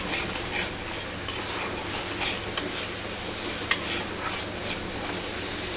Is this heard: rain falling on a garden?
no